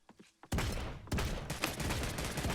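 Gunfire in the online battle royale game Realm Royale: a burst of loud, dense shots begins after a short quiet stretch, with a brief gap and then more rapid firing.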